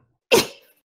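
A single sharp sneeze, close and fairly loud, bursting out and fading quickly in an otherwise quiet room.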